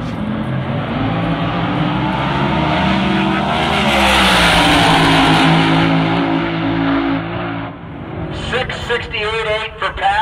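Drag racing car on a qualifying run at Tucson Dragway, a loud roaring engine that builds and sweeps past, then fades. A commentator talks over it throughout.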